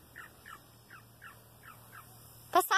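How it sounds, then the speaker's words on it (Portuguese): A small bird chirps in a short series of six faint, evenly spaced calls, followed by a louder burst at the end, with low background hum outdoors. "Passarinho, gente."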